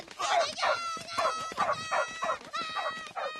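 A cartoon dog barks in a Hindi-dubbed animated film, a run of about eight rhythmic, tonal yelps and barks, loud and close.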